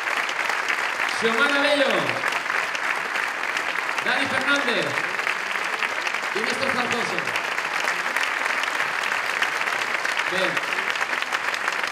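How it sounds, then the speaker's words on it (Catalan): Steady applause from a concert audience for a university big band, continuing under a presenter announcing musicians' names over a microphone. "Moltíssimes gràcies pels vostres aplaudiments,"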